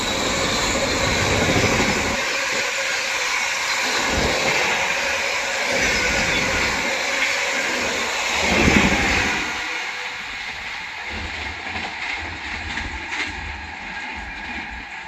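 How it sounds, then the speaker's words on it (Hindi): The Bhubaneswar Tejas Rajdhani Express rushes past as a loud, continuous roar of wheels and carriages with rhythmic clatter, a broad steady wash that eases slightly toward the end. "भुवनेश्वर तेजस राजधानी एक्सप्रेस।"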